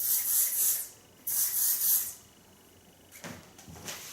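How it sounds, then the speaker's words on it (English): A can of spray wax hisses in two steady bursts of about a second each onto short styled hair, followed by soft rubbing and handling sounds as the product is worked in. "Now to finish this style, I use a soft wax, spray wax."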